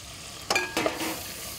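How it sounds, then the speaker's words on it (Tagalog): Butter or margarine melting in a pan as pork sisig is started, two short sizzling bursts as it is stirred, close and moderately loud, then a low steady hiss. "umpisa natin siya sa butter or sa margarine"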